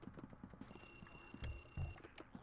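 A telephone rings in Luigi's Mansion, a steady electronic ring-tone sustained for over a second, quiet against soft footsteps and low thumps in the game.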